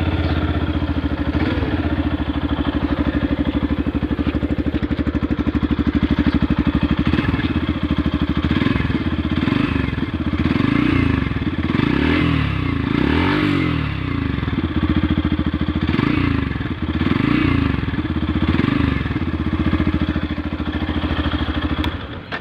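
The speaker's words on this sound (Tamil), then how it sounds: "இப்போ வந்து வண்டியை ஸ்டார்ட் பண்ணிட்டு வண்டியோட இன்ஜின் நாய்ஸ் வந்து கேட்போம்" A TVS Apache RTR 160 4V or Yamaha FZ-X motorcycle with a double-barrel silencer idles with a steady, loud thumping beat, then revs repeatedly in short blips, close up and alone.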